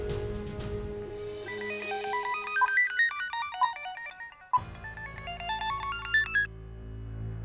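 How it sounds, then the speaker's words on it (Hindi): Ringback tone of an outgoing phone call, a melodic electronic ringing pattern repeating in two bursts with a short gap, fairly clear over a low background hum, no talking. "फोन करके देखती हूँ।"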